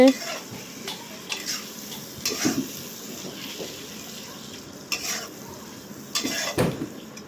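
Shidol dried fish sizzles in hot oil with green chilli and tomato, a soft steady fry broken by intermittent stirring scrapes and clinks of a utensil against the pan, close and fairly quiet.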